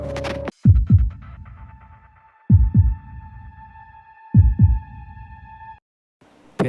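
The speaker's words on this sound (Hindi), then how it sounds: "जैसे जैसे वो लोग मेरी ओर बढ़ रहे थे, मेरे दिल की धड़कनें तेज हो रही थी।" A heartbeat sound effect thumps in paired double beats over a sustained eerie tonal hum, three heavy lub-dub pulses rising loudly before the hum cuts out.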